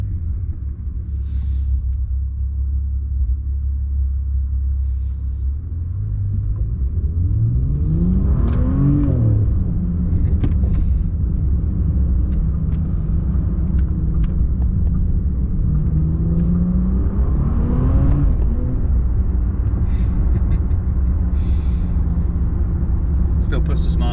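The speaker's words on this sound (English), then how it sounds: "let's see how fast this thing can accelerate" A Bentley Batur coachbuilt supercar accelerates hard on an open road, its deep engine rumble swelling through two rising rev sweeps, loud and continuous from inside the cabin.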